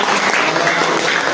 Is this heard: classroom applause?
yes